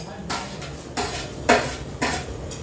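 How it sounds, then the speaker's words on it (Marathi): Metal utensils clatter against a pan in several distinct knocks and scrapes as tomatoes are added, fairly close, with a faint sizzle underneath. "आता टोमॅटो टाकते"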